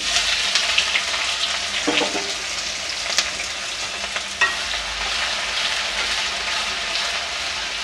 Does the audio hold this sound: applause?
no